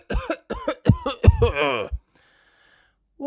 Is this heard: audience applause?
no